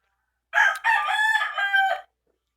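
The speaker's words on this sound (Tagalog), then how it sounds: "Ingay nito ng manok ko." A rooster crows once, a full cock-a-doodle-doo lasting about a second and a half, close and clear against otherwise quiet surroundings.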